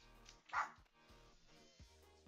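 A pet dog in the Roblox game Adopt Me gives a single short bark near the start, followed by quieter game sounds with a faint tonal background and no speech.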